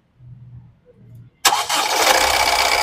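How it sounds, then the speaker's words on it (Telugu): A 2015 Honda City VX car engine starting on a single crank, a brief starter whir, then the engine catching loudly and settling into a steady close idle. "ఈ కార్ సింగిల్ సెల్ఫ్ లో స్టార్ట్ అవుతుందా లేదా అన్న చూపిస్తాను స్టార్ట్ చేయాలి"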